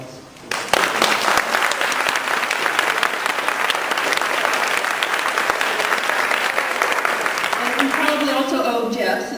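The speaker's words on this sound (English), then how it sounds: "we all, of course, owe Zart a tremendous round of applause" An audience at a psychology lecture on gifted adults bursts into sustained, dense applause that starts abruptly and continues evenly, with a voice beginning to speak as it tapers near the end.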